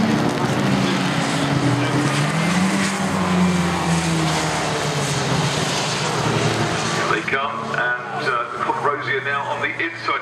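Classic Stockhatch racing cars, a Peugeot and a Vauxhall, race at Brands Hatch with loud sustained engine roar and shifting pitch as they pass, under a commentator's continuous voice.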